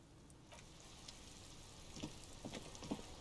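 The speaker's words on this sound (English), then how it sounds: "This rain will not let up anytime soon." Steady rain falls in a video game city scene, a soft, constant hiss with faint scattered drips and patters, quiet throughout.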